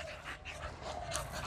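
Bully breed dogs panting rapidly during a training session, a steady breathy rhythm close by with no voices over it.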